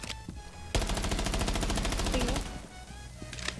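A rapid burst of automatic gunfire is fired through a wall in Rainbow Six Siege, about seventeen evenly spaced shots in under two seconds, loud and close, followed by quieter game ambience.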